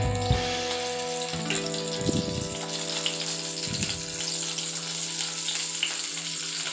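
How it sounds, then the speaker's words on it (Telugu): Pieces of bitter gourd sizzle and fry steadily in a pan, a continuous close crackle with a couple of brief stirring or scraping sounds partway through. "ఇప్పుడు ఇవి ఇలా ఫ్రై అవుతున్నాయి కదండి"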